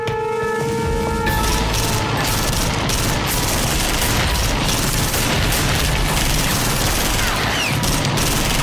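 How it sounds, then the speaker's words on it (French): Dense, loud gunfire from a shootout in the 1997 film The Sacrifice (L'Acte de trahison) goes on without a break, a heavy barrage of shots and booms that fills the whole stretch. "Priorité absolue, en finir avec Lucie. Tirez à vue."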